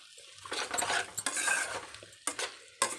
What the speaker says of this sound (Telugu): ఇప్పుడైతే కలిపేసుకుందాం